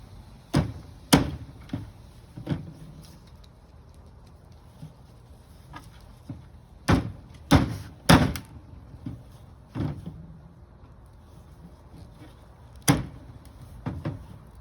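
A hammer or heavy rock strikes a pistachio shell flat down, giving a series of sharp, loud isolated knocks spaced irregularly over a low background hum, with no talking.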